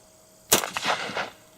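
One sharp, loud report from a Browning Auto-5 Light Twelve shotgun firing a light 1-ounce load, followed by a short reverberating rattle and echo that fades within a second.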